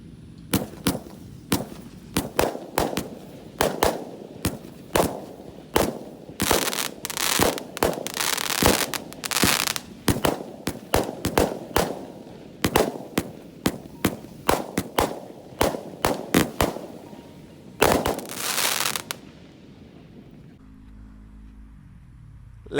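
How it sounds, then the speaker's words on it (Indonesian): A 25-shot Roman Candle firework at night, firing a long, fast run of sharp pops and bangs, loud and close, with a brief crackling burst near the end before the noise stops and quiet returns. "langsung saja kita nyalakan Roman Candle The Hobbit 25 shot ya"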